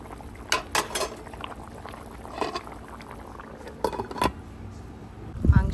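Meat and potatoes simmer in a pot over a wood fire, giving a soft steady bubbling broken by a few sharp clinks and knocks of a utensil against the pot, with a louder clatter at the end.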